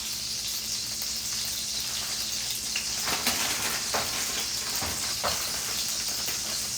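Heavy cream sizzling loudly in a hot frying pan alongside liver and onions, a steady broadband frying hiss with a few sharper crackles and pops partway through, no voices.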